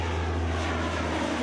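Hercules cargo plane with propeller engines droning, a steady broad rumble that holds evenly through the brief moment, no voices.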